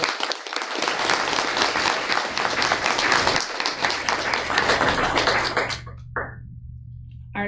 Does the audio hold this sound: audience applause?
yes